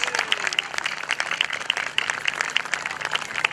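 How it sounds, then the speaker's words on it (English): An outdoor crowd at a helicopter airshow gives a brief, scattered round of clapping for a former Vietnam combat pilot who just landed; the claps sound moderately distant and thin, over a faint steady background hum. "Let's have a hand of applause for Chris Burgess."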